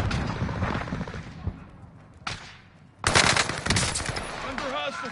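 Rapid machine gun fire in Warzone comes in dense bursts, first a long rattling string, then a pause, then a louder, sharper burst. A game voice cue is heard under the shots.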